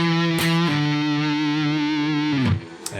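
A heavily distorted electric guitar holds a sustained note, then drops through quick pull-offs to lower notes near the end, loud and buzzing.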